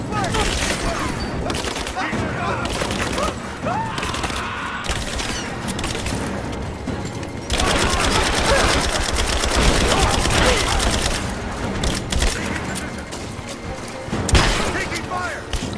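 Dense gunfire and explosions in the video game Rise of the Tomb Raider, a near-continuous fusillade of shots and booms with bursts of automatic fire, loud and busy throughout, mixed with voices of in-game characters.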